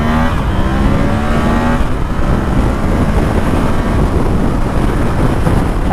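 A 2019 Yamaha XSR700 motorcycle pulling away in first gear onto a freeway, its engine rising loudly and continuously beneath heavy wind buffeting.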